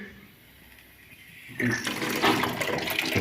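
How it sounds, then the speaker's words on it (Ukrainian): Water rushing into heating pipes at a boiler's first start-up in an apartment, a faint hiss that swells into a loud, steady gushing and bubbling flow partway through. "Чуєте шум води."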